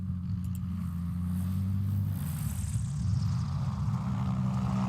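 A small backcountry airplane, such as a Cessna 170, Cessna 175 or Aviat Husky, comes in to land during a short-landing competition. A steady propeller and engine drone holds at moderate distance throughout.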